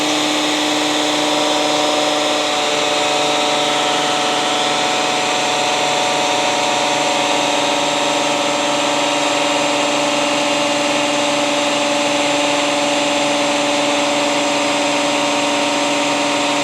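A power drill drives the oil pump to prime a newly built engine. Its loud motor whine holds steady, close by and uninterrupted, for the whole stretch, with no talking.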